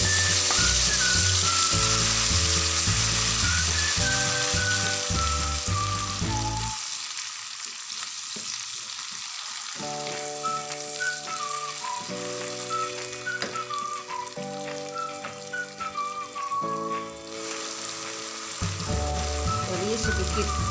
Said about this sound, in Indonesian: Setelah minyak panas, masukkan cabai tadi.